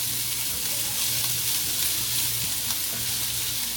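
Chopped onions and garlic frying in hot oil, a dense loud sizzle hissing steadily throughout, close up, with a low hum underneath and no talking.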